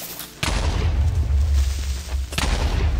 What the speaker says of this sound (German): Double Creeper Explosion.